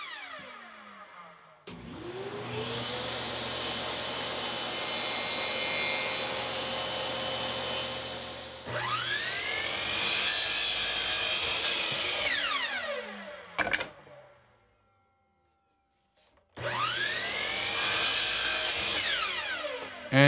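A table saw rips a wood strip to serve as the base of a saw sled, the blade whining loudly through the cut, spinning down, then cutting again after a short silence.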